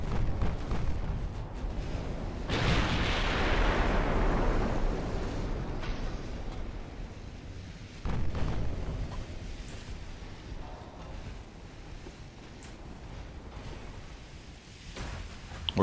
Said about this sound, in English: we got an ammo detonation on the Blucher